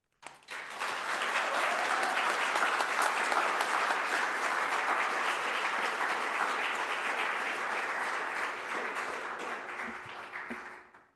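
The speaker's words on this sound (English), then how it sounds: "Let's give everybody a round of applause." Sustained applause from an audience at a worship service, a dense, steady wash of many hands clapping that swells quickly, holds loud for about ten seconds and tapers off at the end, with no talking over it.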